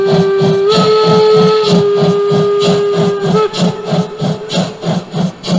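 A model steam whistle for a gauge 1 (Spur 1) live-steam model blows a loud, sustained tone across the clip, briefly dipping and shifting pitch twice. Steady rhythmic chuffing pulses and hiss run underneath throughout.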